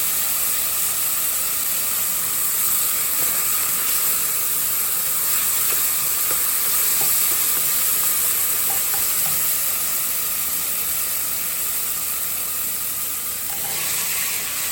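Vegetables sauté in a pan for pasta e fagioli, giving a steady, loud, hissing sizzle that stays constant and close throughout with no talking over it.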